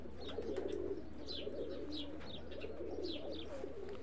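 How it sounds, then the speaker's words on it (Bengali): A high-quality racing pigeon coos repeatedly in soft, low rolling phrases near at hand, with a few faint chirps from other birds over a quiet background. "খুব ভালো মানের কবুতর,"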